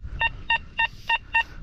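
A metal detector sounds five evenly spaced high-pitched beeps, each short and clear, over a low background rumble while searching near an old inn site.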